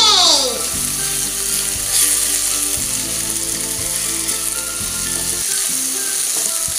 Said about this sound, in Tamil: எல்லா ஸ்பைசஸும் சேர்த்து ஆட் பண்ணிட்டு ஓகே ஒரு மிக்ஸ் பண்ணிடலாம்.